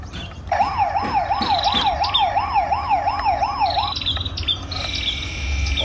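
A toy police car plays an electronic wailing siren, a rapid up-and-down warble repeating steadily for about three seconds, loud and close, followed by a few shorter beeping tones.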